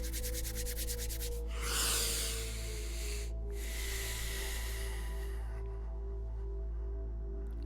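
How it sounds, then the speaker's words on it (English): Hands rubbed briskly together to build friction, a close, steady broadband swishing that runs for several seconds, swells briefly near the start, then fades out, with no talking. "Let's warm the hands up, create some friction, and rub it over your face."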